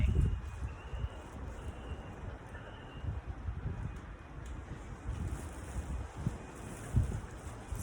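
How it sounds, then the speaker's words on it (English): Steady wind buffets the microphone throughout, a loud low rumbling roar with gusts swelling and easing, no voices heard. "gosh, so windy"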